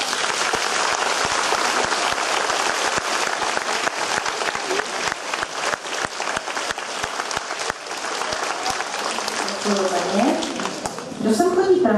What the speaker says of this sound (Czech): tak jim hrozně zatleskáme.